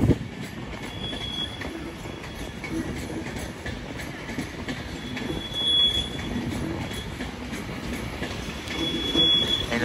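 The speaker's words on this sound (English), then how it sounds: "As incoming now will be the 1610 Transport for Wales service to Carmarthen from Manchester Piccadilly." A Transport for Wales Class 197 train arrives at Crewe station, with a low, steady wheel rumble and brief, high wheel squeals now and then, heard without voices.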